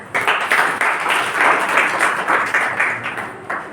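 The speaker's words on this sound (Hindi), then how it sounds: "अपने लिए ताली बजाओ एक बार तो" A church congregation claps together in a sustained burst of dense, steady applause lasting several seconds, fairly loud and even throughout with no voices standing out.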